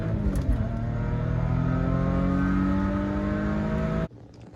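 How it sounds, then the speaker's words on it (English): A supercharged BMW E46 330i ZHP pulls hard in second gear from a 40 mph roll, its engine note rising steadily and loud with layered harmonics for about four seconds before cutting off abruptly. "I'm gonna do a pull from a roll in second gear, 40 miles per hour"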